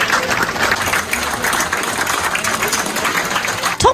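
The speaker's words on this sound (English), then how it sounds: "Then we gave the chefs a round of applause." Diners aboard the P&O Iona cruise ship applaud the chefs at a chef's table dinner, a dense, steady wash of clapping from a group that fills the room, with a sharp knock near the end.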